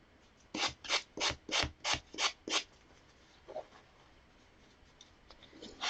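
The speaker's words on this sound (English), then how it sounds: "this also is sanding off a little bit of that paint I already put on the edges" A quick series of seven rough scraping strokes as sandpaper sands paint off canvas edges, followed by quieter occasional rubbing and faint handling noise.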